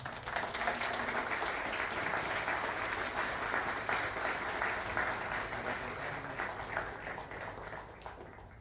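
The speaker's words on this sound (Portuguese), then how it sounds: "peço a vocês que a gente receba com muitos aplausos o Percussion Ensemble e Ricardo" An audience at a concert claps steadily to welcome a marimba percussion ensemble onto the stage, a continuous moderate wash of applause heard from some distance that eases slightly toward the end.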